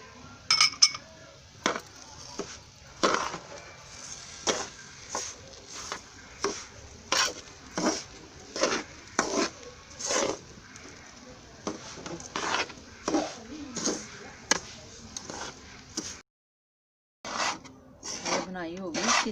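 Chana dal barfi mixture with sugar being roasted in a pan, a steady rhythm of spoon scrapes and clinks against the metal repeating close by, briefly pausing near the end.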